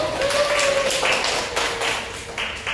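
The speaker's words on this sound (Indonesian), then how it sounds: "tepuk tangan dong buat saya" A small class claps for a student teacher during a micro-teaching lesson in an Indonesian classroom: a scattered run of sharp, close claps from a few people, with faint voices beneath.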